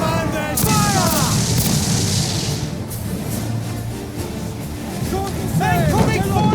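Pirate ship cannons in the video game Assassin's Creed boom in a heavy broadside over rushing sea and wind, with crew members shouting throughout.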